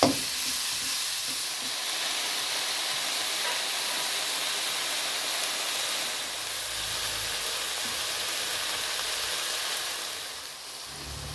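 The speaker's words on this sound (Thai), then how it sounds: "ผัดไปเรื่อยผัดไปเรื่อยๆผัดจนเนื้อมันแห้งนะครับ" Spicy beef stir-fried in a pan until the meat dries out, giving a loud, steady sizzling hiss with scraping from the stirring that runs unbroken throughout.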